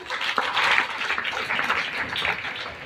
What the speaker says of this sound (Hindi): रवि सर के लिए जोरदार ताली